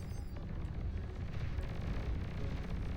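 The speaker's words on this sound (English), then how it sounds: "Marauder will be firing away its missile here." A Marauder unit firing its missile during an 8v8 Beyond All Reason deathmatch: a deep, continuous rumbling roar of launch and blasts, loud and dense throughout with no voices.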